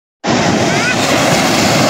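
Sea waves wash steadily onto a natural beach at Esplanade, San Jose, Antique, in the Philippines, a loud continuous rush that starts abruptly and holds without pause, with wind buffeting mixed in.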